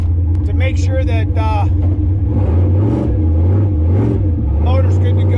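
A turbocharged Foxbody Mustang engine revs during break-in heat cycles. The loud, close rumble rises and falls in pitch several times, with a voice speaking over it.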